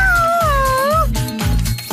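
A cartoon cat gives a long, clear, wavering meow up close, with rhythmic low thumping music or effects running beneath it and a brief second cry near the end.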